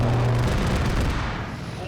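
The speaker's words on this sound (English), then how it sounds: "There's MI-24 with another gun run." An MI-24 helicopter makes a gun run in a video game, a loud, dense roar of rapid cannon and gunfire that rolls on steadily and eases slightly toward the end.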